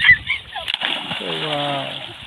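A boy back-jumps into a clear river and lands with a short, loud splash near the start, followed by water sloshing while a voice talks over it.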